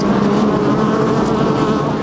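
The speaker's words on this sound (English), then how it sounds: "And the bees are back and as busy as ever" A steady, close drone of many bees buzzing together on a Minnesota farm, continuous and fairly loud throughout with no voices.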